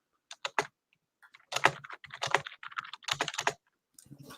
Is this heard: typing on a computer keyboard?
yes